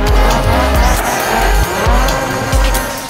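In the GRID Autosport video game, a tuner race car drifts with its tires squealing. Loud, continuous engine roar blends with repeated screeching skids, and the rhythmic tire squeals rise and fall as the car slides through the turns.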